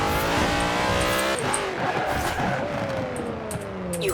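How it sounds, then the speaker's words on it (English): A car engine in the Forza Horizon 4 video game revs and shifts through gears, loud and close, with rising and falling engine tones held continuously with no talk. "Love the engine noise, I gotta say that."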